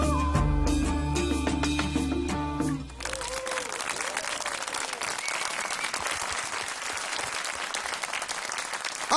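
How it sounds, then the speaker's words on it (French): An audience applauds loudly at a children's choir show, the dense clapping swelling in after a sung passage ends and holding steady at close range through the rest. "Encore une belle leçon d'humanité qu'on applaudit très fort"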